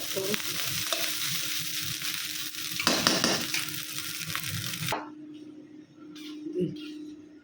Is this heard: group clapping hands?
no